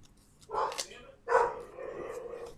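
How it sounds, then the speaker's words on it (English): A dog indoors gives two sharp barks about a second apart, fairly faint and close-miked, with a whiny tail after the second. "Sorry guys, it's the dog."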